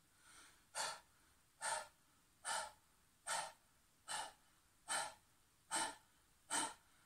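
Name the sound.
panting like a dog, yoga breathing exercise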